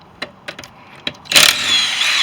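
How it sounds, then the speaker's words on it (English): A power tool spins the wheel bolts off a punctured tire during a tire repair: a few sharp clicks, then a loud, close burst of whirring that settles into a steady buzzing run. "spin those bolts"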